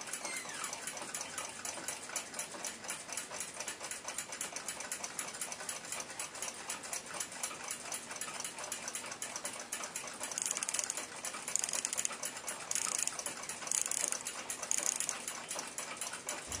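Waltham 7 jewel pocket watch mechanism ticking after its balance wheel assembly is installed, a fast steady stream of tiny metallic ticks, close and even throughout, growing slightly louder and brighter toward the end.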